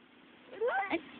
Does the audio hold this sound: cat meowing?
yes